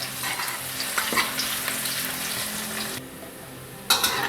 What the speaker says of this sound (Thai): ผมก็จะใส่หอมแดงที่ผมหั่นซอยไว้นะครับ ลงไปเจียวเลยครับ